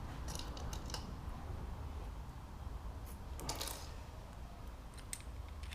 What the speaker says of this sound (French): On met les 5 disques.